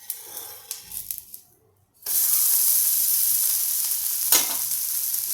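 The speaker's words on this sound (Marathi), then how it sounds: "आता मी याच्यावर तेल टाकते" Oil hitting a puffed rice thalipeeth in a pan: after quiet scraping taps, a sudden loud sizzle bursts up and holds steadily, with one brief sharper hiss partway through.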